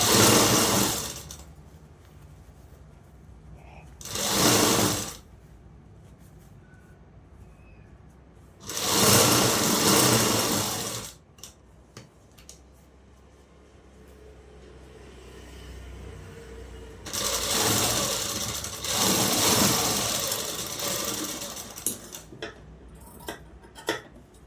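A sewing machine stitches fabric in a tailoring shop. It whirs loudly in several bursts, with quiet pauses between them that are filled by faint ticking and handling noises.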